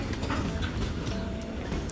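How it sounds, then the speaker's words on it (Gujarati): A train departs a village railway station, gathering speed as it rolls past nearby with a continuous rumbling roar and faint rattling of wagons, building steadily with no voices. "ધીરે ધીરે આ ટ્રેન પણ નીકળી રહી છે"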